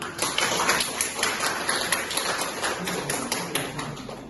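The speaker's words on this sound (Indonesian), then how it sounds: "Kita beri aplaus dulu." An audience in a teaching session claps together: a dense, even patter of many hands, moderately close and sustained throughout with no pauses.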